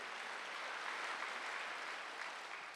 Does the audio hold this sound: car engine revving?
no